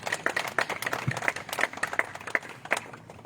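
A crowd claps for the singer at a birth anniversary celebration for General Zorawar Singh, with steady, fairly close applause and distinct individual claps throughout.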